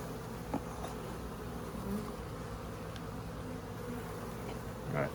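Honey bees buzz softly and continuously, forager bees flying, a faint steady hum with occasional nearer passes.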